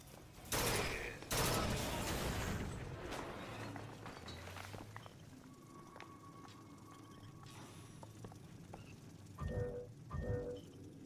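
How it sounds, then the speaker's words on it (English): Machine gun fire in the video game BioShock Infinite, Burial at the Sea DLC: loud rapid bursts near the start and again near the end, with softer gunfire and game ambience in between. "Machine gun."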